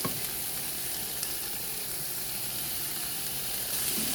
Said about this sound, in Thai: เครื่องผัดขี้เมาลงละ มีกระชาย มีพริกแดง มีพริกไทยสด เดี๋ยวเรามาผัดให้มันเข้ากันเนาะ